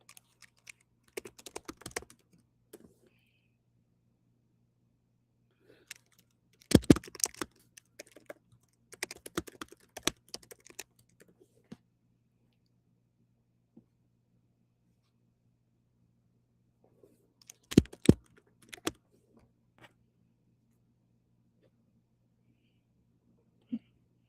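Someone types on a computer keyboard in scattered bursts of quick, close clicks separated by long quiet gaps.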